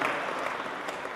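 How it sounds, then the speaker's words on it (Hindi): Audience applause for the team at a London poetry recital by Imran Pratapgarhi, a brief dense burst of clapping from a large crowd with no voices over it. "मुझे लगता है एक बार पूरी टीम के लिए आपकी ज़ोरदार तालियां बजनी चाहिए"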